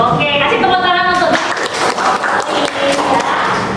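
Audience clapping at an Indonesian-language talk, uneven hand claps with some thumps, mixed with crowd noise and voices talking over it.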